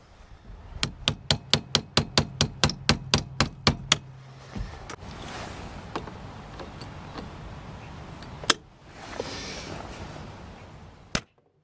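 Hammer taps drive a pin out of a VW Golf ignition key held in vise grips with a jewelry screwdriver: a rapid even series of about fifteen sharp metallic strikes, then a few scattered clicks and one final tap.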